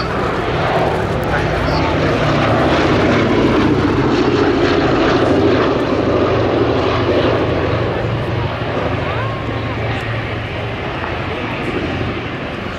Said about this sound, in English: This is now Europe's only remaining B-17 in airworthy.